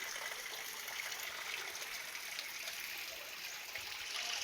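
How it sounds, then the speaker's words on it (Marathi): Cold water streams steadily at Vajarkund, a year-round water spot, heard as a faint, even rushing hiss with no talking over it. "आता या पाणी वर्षाच्या 12 महिने ह्या पाणी चालू असता."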